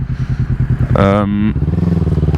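A 2017 roadster motorcycle being ridden, its engine pulsing in a steady close rhythm throughout, with a brief tonal burst cutting in midway.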